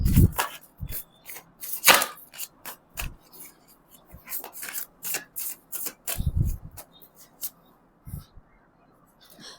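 Tarot cards being shuffled and drawn by hand at close range, a run of crisp flicks, slaps and rustles spread unevenly over several seconds with no talk.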